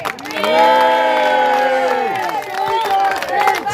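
A large crowd at a rally cheers and whoops loudly, a sustained roar of voices with some clapping mixed in.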